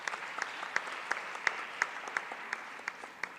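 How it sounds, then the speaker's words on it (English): Applause rises from the audience at a Bharatanatyam arangetram, a dense patter of clapping with a few sharper claps standing out at a steady rhythm, heard alone without speech. "So a big round of applause to yourselves"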